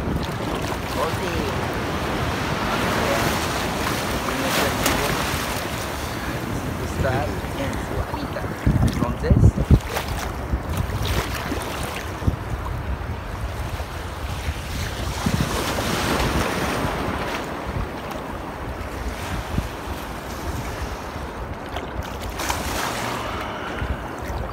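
Sea waves wash and surge continuously while strong wind buffets the microphone on the open ocean off Nuevo Vallarta, a steady loud roar with a brief louder gust of handling noise midway.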